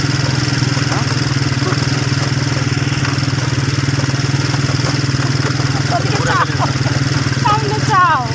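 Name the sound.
motorcycle ride engine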